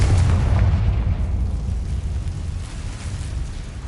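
A Confringo blasting spell explodes in the Hogwarts Legacy video game, a loud booming burst at the start that rumbles deeply and slowly fades away over a few seconds.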